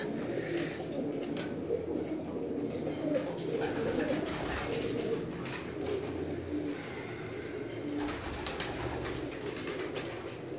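Pigeons coo repeatedly on a rooftop loft, soft throaty calls overlapping at close to moderate distance over a constant background hum, with no voices.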